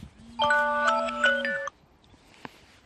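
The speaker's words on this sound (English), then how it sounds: "there's my other phone going." A mobile phone's melodic ringtone plays a short rising tune for about a second and a half, clear and moderately loud, on an allotment with the quiet outdoors behind it.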